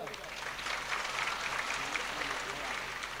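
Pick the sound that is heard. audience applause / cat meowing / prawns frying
audience applause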